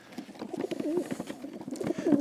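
Domestic racing pigeons coo inside a loft, several birds giving soft, throaty, overlapping calls up close, with faint rustling and movement around them.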